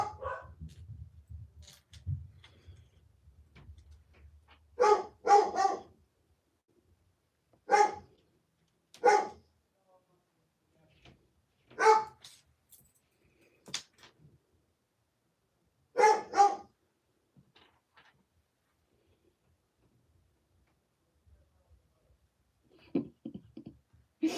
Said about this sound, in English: they're barking at something in the back.